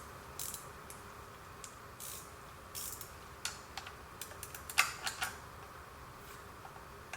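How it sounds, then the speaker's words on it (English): Metallic ratcheting clicks and sharp snaps from a 10-14mm wrench with raised heads working a bolt loose on a vehicle, scattered and close, with a louder crack midway. "put this wrench back on here, the one with these raised heads, and see if we can take this bolt off"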